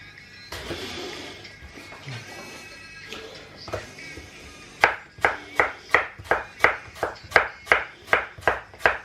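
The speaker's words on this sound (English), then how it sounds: "We're slicing very, very poorly because my knife skills, as you all are aware by now, my knife skills are absolutely shocking." A knife slicing apples for apple slaw on a cutting board, starting with scattered, uneven cuts and shifting into a quick, regular run of about a dozen sharp, close chopping knocks.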